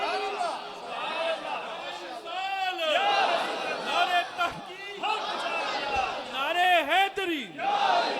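A large crowd at a religious gathering roars a loud unison response of 'Allahu Akbar' in repeated surging shouts, answering the Nara-e-Takbeer call.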